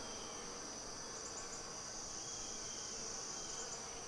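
Honey bees in a hive infested with hive beetles and wax moths give a faint, steady high-pitched hum and buzz, with no voices.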